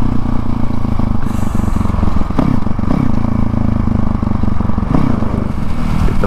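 A Honda CRF450L supermoto motorcycle is ridden at speed, its engine droning loudly and steadily with wind rumble and occasional rattles and gear-change blips.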